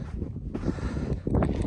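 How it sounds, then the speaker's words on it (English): Steady wind buffeting the microphone on a mountain hike near Loveland and Guanella Pass, a loud, rumbling roar with gusty swells. "It's windy today."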